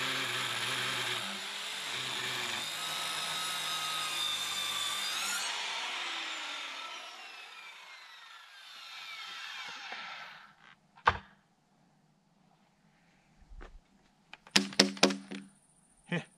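A saw rips lengthwise through a wooden log for about ten seconds, throwing off sawdust, loud and close as it runs down. Sharp knocks and clatters of wood follow, with no talk.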